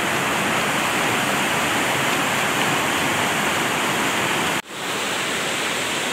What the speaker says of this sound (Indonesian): Artinya itu arusnya itu sangat membahayakan sekali ya, Sungai Cimandiri ini sangat besar.